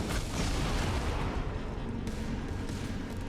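A grenade launcher fires in the shooter game Destiny 2, giving dense, continuous booming blasts and rumbling explosions that fill the whole moment at close, loud range.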